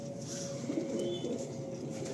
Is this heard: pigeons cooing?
yes